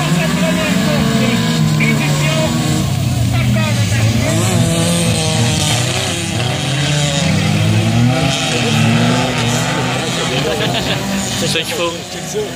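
Several four-cylinder stock cars roar together at the start of a race at Taschereau, a loud continuous engine drone with shifting pitch, while a voice talks over the noise throughout.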